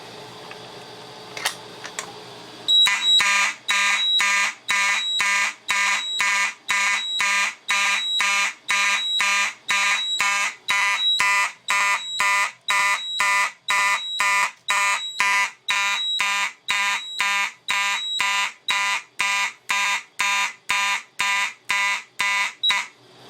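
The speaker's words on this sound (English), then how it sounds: "mechanical horns on march time sound awesome" Loud electronic fire alarm horns on a Simplex 4010 panel blare in a steady pulsing march-time rhythm, many evenly spaced blasts after a brief quieter start.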